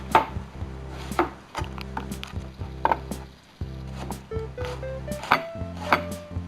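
A knife chops strawberries on a cutting board for brunch, striking in a steady series of sharp, close chops with brief pauses, over a low background hum.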